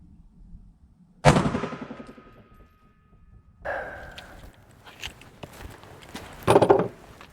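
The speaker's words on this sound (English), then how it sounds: "last shot, 68 grain" A .380 ACP pistol firing a 68 grain Lehigh round, one sharp, loud, close shot with a ringing tail, followed by fainter clatter and movement and another loud burst near the end.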